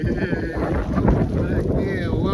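Strong wind buffets the microphone outdoors on a windy homecoming weekend, a loud steady rumble with gusts throughout while someone speaks over it.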